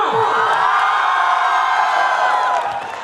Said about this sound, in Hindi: पसंद आई तो जोरदार हुटिंग के साथ तालियां